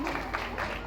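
Applause from an audience at a women's competition and prize event, a dense burst of clapping that fills the moment, with voices mixed in underneath.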